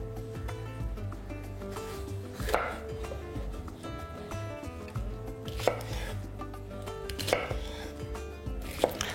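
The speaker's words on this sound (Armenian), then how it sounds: "Սրանք էլ մանր կտրատում ենք։" Red and yellow sweet peppers are chopped finely on a board with a knife, giving quick, regular taps close by. A few sharper knocks stand out over a low background hum.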